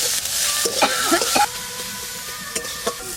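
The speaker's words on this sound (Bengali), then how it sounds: "পেঁয়াজটা ভাজবো" Onion frying in mustard oil with a little salt, a steady hiss broken by a cluster of scraping stir strokes and spatula clinks, then a lighter sizzle with a few more taps.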